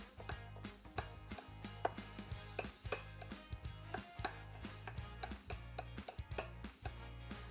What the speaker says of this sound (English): just use a spoon to get this all mixed up together